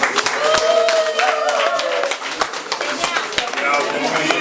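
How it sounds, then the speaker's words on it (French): A crowd at the official opening of a Canal+ shop in Matadi claps in scattered, uneven bursts while voices chatter loudly over the clapping. "J'aimerais qu'on applaudisse pour lui quand même."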